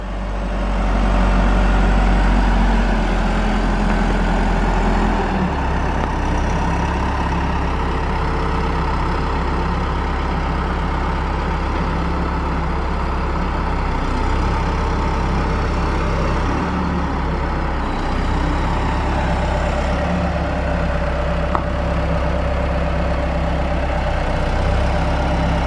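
A 30,000-pound truck loaded with concrete on the front drives along with a steady, heavy low engine rumble and drone throughout, without pauses.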